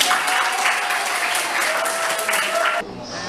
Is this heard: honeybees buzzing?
no